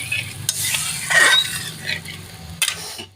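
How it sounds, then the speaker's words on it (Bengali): Spices being stirred into fish curry gravy in a pot, a few scraping utensil strokes over a soft simmering sizzle, close and moderately loud, with no talking. "দিয়ে ভালো করে মশলাগুলো ঝোলের সঙ্গে মিশিয়ে নিচ্ছি"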